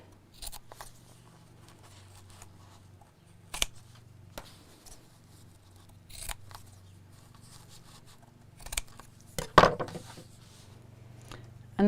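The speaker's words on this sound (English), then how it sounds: "And then cut out the shape." Scissors snip through fabric to cut out a shape for a simple cross body bag, with a few sparse, quiet cuts separated by pauses and one sharper snip near the end.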